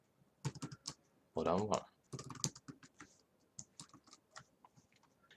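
Clicky computer keyboard typing while coding a Java Cookie Clicker program, quick irregular keystrokes and short bursts close by, with someone briefly speaking in between.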